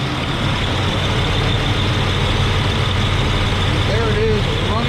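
A 1986 Oldsmobile Cutlass Supreme with the 307 V8 running steadily at idle, a loud, continuous low rumble close to the car that holds an even drone throughout.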